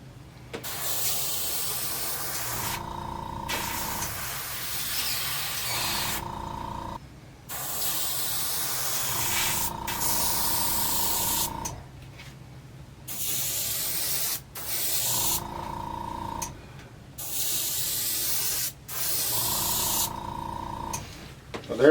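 Sprayer applying a top coat to a custom-painted saltwater popper fishing lure, with repeated hissing bursts of a few seconds each separated by short gaps, close and steady throughout.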